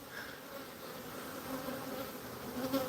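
Honeybees crawl into a hive box while colonies are being combined, a steady close insect buzz and hum running throughout with no talking.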